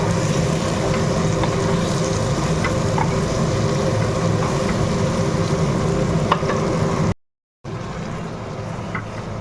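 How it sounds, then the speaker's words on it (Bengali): A metal spatula stirs a fish curry of foli fish with drumsticks, lentil bori and coriander in a wok. It scrapes steadily and close over a continuous sizzle, with a brief cut near the end. "এই খুন্তিটা দিয়ে নাড়ি"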